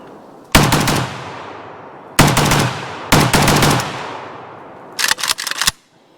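An AK rifle fitted with a muzzle device fires several loud, sharp bursts, with short pauses between them and a final rapid string near the end.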